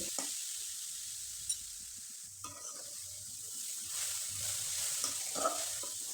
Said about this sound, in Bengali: হালকা আছে এভাবে শুধু নেড়েচেড়ে নিব।